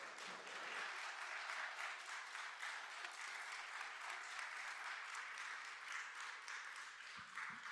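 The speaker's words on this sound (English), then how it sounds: "can we please have a round of applause for the incredible board of directors of 5784?" A round of applause for the board of directors at a community annual meeting: faint, dense, continuous clapping heard from a distance, with no talk over it.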